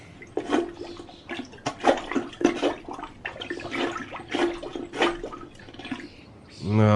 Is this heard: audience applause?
no